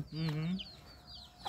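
A mother hen clucking near her small brood of chicks on a farm, a few short clucks that come and go while people talk over them.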